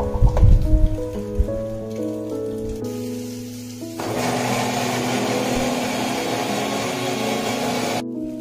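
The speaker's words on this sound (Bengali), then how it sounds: "তো চলো এবার এইটাকে ভালো করে মিক্সচারে বেটে নেবো।" An electric mixer grinder grinds chillies, starting after a few clattering knocks and then roaring as a loud, steady whirring grind for about four seconds before cutting off abruptly.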